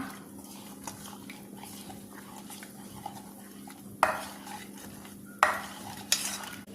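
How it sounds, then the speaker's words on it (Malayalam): A spoon stirs ragi flour and water cooking in a pot, making soft scraping and bubbling sounds, with several louder clanks of the utensil against the pot and no talking. "നമുക്കൊന്ന് ഇളക്കി കൊടുക്കാം."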